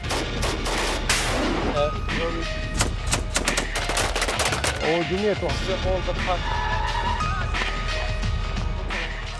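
Sharp cracks of gunfire and heavy bomb blasts in a war zone near ISIS lines burst repeatedly, some in rapid clusters, amid shouting voices and a rough, noisy background.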